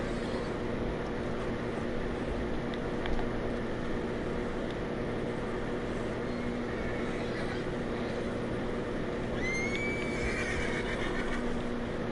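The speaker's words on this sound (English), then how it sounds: "I hate having to deal with wild horses. They take forever to calm down." A wild horse in Red Dead Redemption 2 gives a clear whinny late in the clip, over a constant low ambient game rumble with faint hoof sounds.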